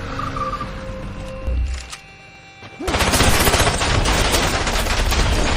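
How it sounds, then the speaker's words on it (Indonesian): Film-scene gunfire: after a quieter stretch of music and ambience, a loud sustained burst of rapid automatic shots erupts and keeps going to the end. "muncul seorang misterius yang langsung memberondong dengan peluru"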